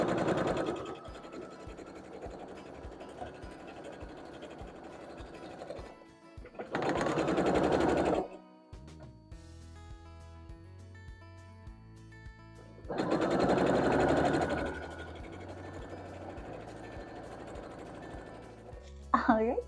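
A sewing machine runs in two sustained bursts of rapid, steady stitching as quilt mushroom block pieces are joined, bottoms to tops. The motor whirs close and clear, with quieter handling and speech-like pauses between the runs.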